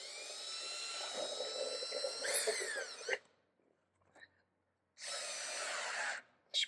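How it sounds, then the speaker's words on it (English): A power drill drives set screws into a drop-in picture frame in two loud whirring bursts, separated by a quiet gap, with small handling noises. "Now I can just do a set screw, and it should be pretty good."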